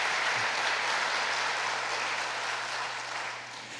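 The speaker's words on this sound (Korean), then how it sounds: "임마누엘 찬양대에게 박수 한번 부탁드립니다" At a Sunday worship service, a church congregation gives the choir a round of applause. The dense, even clapping fills the room, then eases off slightly toward the end, with no voices over it.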